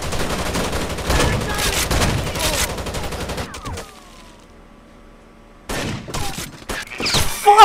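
SPAS-12 shotgun fire in the video game Rainbow Six Vegas comes in loud, close bursts of rapid shots. A quiet gap of about two seconds separates the bursts before the firing resumes.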